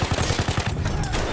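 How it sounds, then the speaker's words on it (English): Battlefield 1 video game gunfire: a rapid, rhythmic burst of automatic shots, loud and close, rattling steadily for about a second before trailing off. "I'm just gonna keep shooting you."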